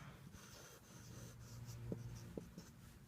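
Pen strokes scratching across paper as the Kalma Tayyaba is written out by hand, a soft steady scrawl with a few brief taps, close and quiet with no talking.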